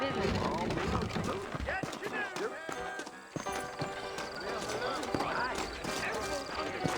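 Horse hooves clip-clopping in the Red Dead Redemption video game, steady close steps with an occasional whinny, mixed under in-game talk and a busy game soundscape.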